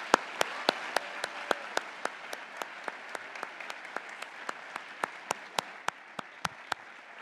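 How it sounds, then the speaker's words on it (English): Conference crowd at DrupalCon Amsterdam 2019 giving a keynote round of applause, a moderate, even patter of many hands with a few loud, regular claps from one person close by. "please join me in giving a round of applause one more time"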